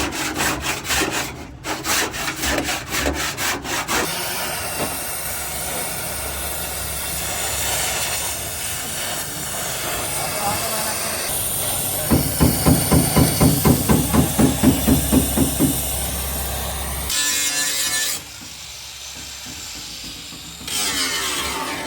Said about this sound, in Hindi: सैंडिंग इस टाइम शुरू की हुई है, सैंड हो रहा है इस टाइम